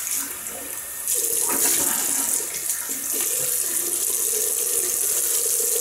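Tap water runs steadily into a sink while a face is rinsed during a wet shave, a continuous close splashing hiss that grows louder after the first second and carries on alone.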